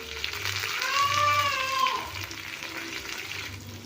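Chopped onion and curry leaves sauté in a pan for hotel-style snake gourd kootu, a steady close sizzle with stirring, and a faint high whine drifts briefly in the background.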